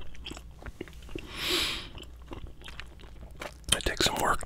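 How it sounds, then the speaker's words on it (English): Stiff, hard gum is chewed up close, with wet smacking, crunchy bites and clicks in an intermittent rhythm, alongside soft whispering and light rustling. "man, this gum is hard."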